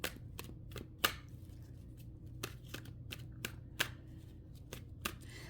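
Tarot cards being shuffled give off faint, quick riffling snaps at an uneven pace over a low background hum, and no one speaks.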